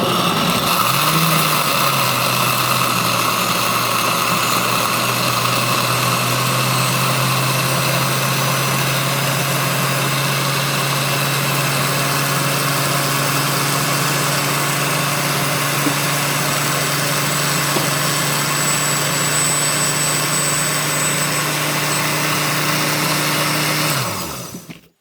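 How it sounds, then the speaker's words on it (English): Blender whirring steadily as it purées raw peanuts with chicken noodle soup and water, a loud continuous motor drone with constant pitch that runs alone for over twenty seconds before winding down abruptly at the end. "I will now blend it."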